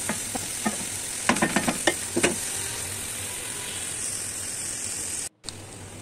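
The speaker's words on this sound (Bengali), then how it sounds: "এদিকে আমি পেঁয়াজ কুচি, একটু রসুন আদা পেস্ট দিয়ে ভালো করে একটু চালটাকে ভেজে নেব" Washed rice frying in ghee with chopped onion and garlic-ginger paste for chicken biryani, a steady hiss of sizzling with a burst of quick scraping stir strokes, then a brief cut near the end.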